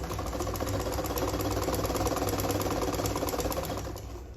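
A sewing machine running a straight seam on fabric for a sleeveless gown, a steady, continuous mechanical whir with fine rapid needle ticking, close and even throughout before easing slightly at the end.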